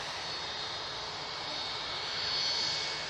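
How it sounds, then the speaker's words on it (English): Ryanair jet airliner lining up for takeoff at Manchester Airport; a steady, distant engine roar with a high whine, swelling slightly louder toward the end. "Lining up now, we have Ryanair, it's off to Murcia."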